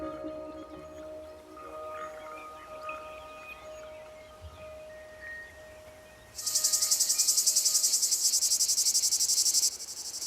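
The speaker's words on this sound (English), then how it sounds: "No sooner is its transformation complete than the male cicada begins to sing." A male cicada in the hot Provence summer bursts into loud, rapid, pulsing buzzing song after several seconds of quieter insect chirps and faint outdoor ambience, the shrill drone holding steady before easing off.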